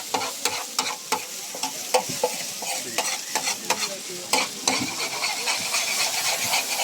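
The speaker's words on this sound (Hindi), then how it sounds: "देखिए पूरा चाउमीन को अच्छे तरह से फ्राई हो रहा है" Chow mein stir-frying in a hot pan, with steady sizzling and hiss under repeated sharp scrapes and clanks of a utensil tossing the noodles, close and busy with no talking.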